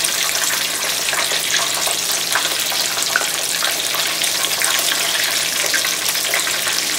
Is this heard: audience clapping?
no